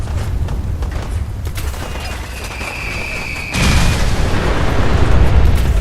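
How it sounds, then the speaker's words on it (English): Multiple warheads from a MIRV nuke launcher in Fallout detonate as a nuclear carpet bombing, a steady deep rumble that swells into a louder, sustained roar of overlapping blasts partway through, with no talk. "it's a nuke launcher that fires multiple nukes that split into smaller nukes while flying to create a nuclear carpet bomb"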